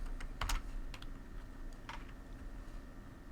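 Typing on a computer keyboard while entering an Excel formula: a few quick, sharp key clicks in short bursts, close and clear against a quiet background.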